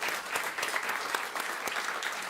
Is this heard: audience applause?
yes